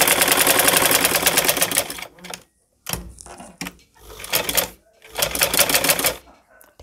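An electric sewing machine stitching a straight seam runs in several short bursts of rapid, rhythmic needle clatter separated by quiet pauses, close and fairly loud.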